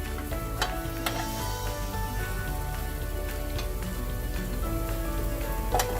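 Thin-sliced beef for a Philly cheesesteak sizzling steadily on a hot griddle, a dense crackling hiss with occasional sharp pops and spatula taps, close and continuous.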